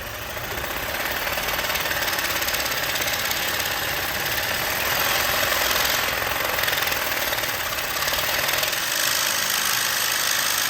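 A 14 bolt axle being cut through with a power tool, a loud, continuous harsh grinding drone with a rattling, buzzing edge that stays close and steady for the whole stretch, no voices.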